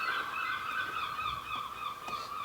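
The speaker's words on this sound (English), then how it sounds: "Stupid seagulls, they're like having a party on the roof up there. So loud." Seagulls on a rooftop call loudly and continuously, their harsh honking cries overlapping close overhead with no other sounds.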